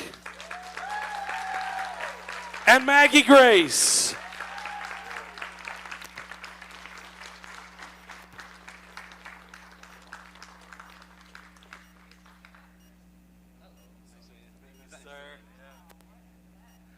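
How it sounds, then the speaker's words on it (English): Convention audience applauding panel guests at a sci-fi fan event, a short swell of clapping and cheers that rises quickly and tapers off, with a presenter speaking over the start and again near the end. "So can we give a big round of applause for Henry Ian Cusick"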